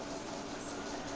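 Video game train heard from inside the carriage as a brief, faint, steady rolling rumble with no other sounds.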